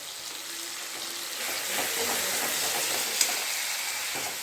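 Green chili paste sautéing in a pan while cooking a vegetarian potato curry, a steady soft sizzle and crackle of frying throughout with a faint sharp tick near the end, no talking.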